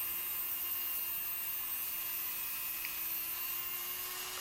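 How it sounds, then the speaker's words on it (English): A small metal axle tube for a Dinky 255 Mersey Tunnel Land Rover toy being cut to length, held in a collet block: a steady high-pitched whining drone of a cutting tool running continuously and evenly, close up, with no talking. "So I'm cutting this to the correct length that I marked from the original axle."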